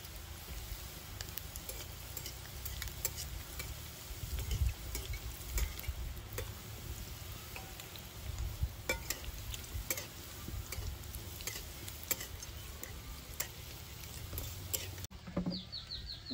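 Egg lollipops frying in hot oil in a pan, a steady soft sizzle and crackle continuing throughout, with occasional sharper pops and faint bird calls in the background.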